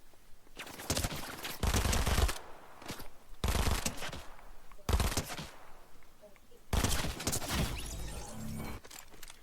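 Shotgun fire in the Fortnite video game, several loud broadband bursts in separate clusters with short gaps between, each a cluster of rapid blasts.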